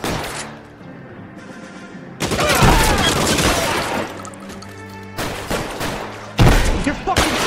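Gunfire from the L.A. Noire video game: bursts of shots in clusters, loud and close, with a sustained noisy rattle between volleys and a voice speaking over parts of it.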